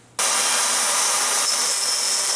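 A power tool starts abruptly and cuts a thin brass steering part for a model, a loud continuous high whine with no speech.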